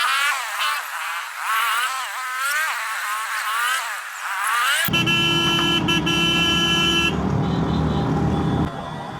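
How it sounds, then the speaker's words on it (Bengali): A horn honks repeatedly on a Royal Enfield motorcycle ride through the Sajek hills, loud and continuous with wavering tones, then a steady blaring horn over engine and road noise. "হর্ন দিলাম তো ভাই ও ভাই ও ভাই হর্ন দিলাম তো"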